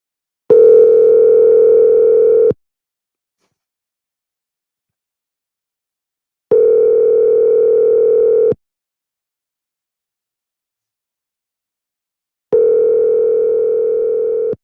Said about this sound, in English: Let's see if we can get her on the phone.